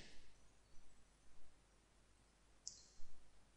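A computer mouse clicks a few times, sharp and close against quiet background hiss, with several soft separate clicks spread across the span and a slightly stronger one near the end.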